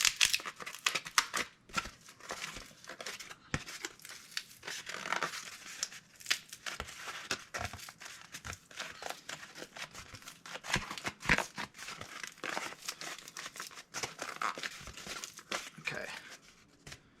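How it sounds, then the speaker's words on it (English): Scored cardboard for a sword scabbard being bent and folded by hand, with dense crinkling, creasing and crackling bursts across a long quiet stretch; a voice briefly speaks once. "These scores allow for the cardboard to be shaped in a certain way."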